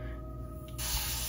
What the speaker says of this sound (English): So we're gonna spray it with water.